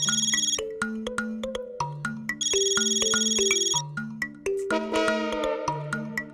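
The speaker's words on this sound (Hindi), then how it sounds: "हाथी भाई का मोबाइल पे ही फोन करता हूँ।" A mobile phone ringtone plays loudly and steadily as a call goes out, a bright repeating electronic melody with chiming tones running through the whole stretch with no talking over it.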